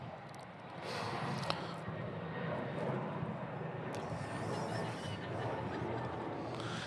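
An airplane drones overhead at a church service, a steady faint engine rumble that swells slightly and holds across several seconds in a quiet indoor room.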